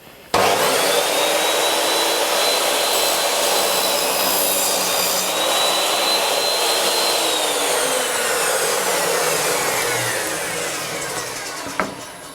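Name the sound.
Triton Workcentre saw squaring off a rough-cut board edge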